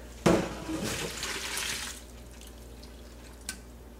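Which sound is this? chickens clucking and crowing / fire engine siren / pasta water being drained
pasta water being drained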